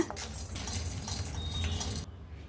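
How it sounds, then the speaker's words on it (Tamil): Roasted gram (pottukadalai) dry-roasting in the residual heat of a hot tawa, stirred with a metal spatula; a steady close scraping and rattling of the dry lentils against the pan that stops abruptly near the end. "அந்த தவாவில் உள்ள ஹீட்லே பொட்டுக்கடலையை வறுத்து எடுத்துக்கலாம்."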